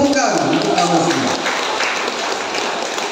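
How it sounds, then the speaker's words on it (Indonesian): Audience of parents applauding at a school customer day event at Sekolah Kebangsaan, a dense burst of clapping that starts loud and continues steadily for a few seconds. "Beri tepukan untuk kamu semua."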